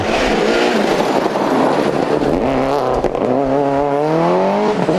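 A loud rally car engine at the 2006 Lurgan Park Rally revs hard and continuously, pitch climbing and dropping through gear changes, close and dominant throughout.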